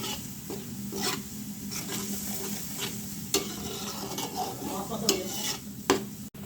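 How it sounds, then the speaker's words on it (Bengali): Spice masala with blended onion and green chilli fries in a pan, sizzling continuously while a spoon scrapes and stirs in irregular strokes, close and fairly loud, no talking. "মশলাটা ভালোভাবে কষুক।"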